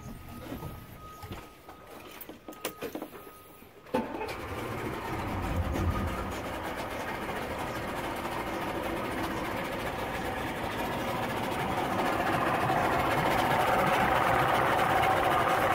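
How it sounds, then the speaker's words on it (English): A used 2000 Cobia 270 walkaround boat's outboard motor starts with a jolt after a few faint clicks, then settles into a steady, loud idle that keeps running and slowly builds. "Go ahead and start up the motor, see how she sounds."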